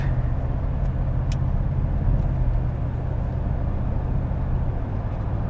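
Steady, loud road noise and low engine drone from a 2024 Toyota Tacoma TRD Pro pickup cruising on pavement in two-wheel drive, continuous throughout with no voices.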